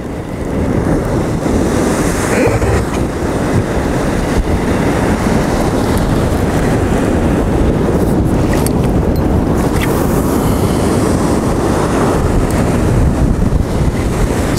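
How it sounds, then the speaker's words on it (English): Ocean waves breaking along a rock platform at sunrise on the coast, a loud, continuous roar of surf with gusts of wind buffeting the microphone. "Pretty cool watching some of these waves, the way they're breaking along the platform here."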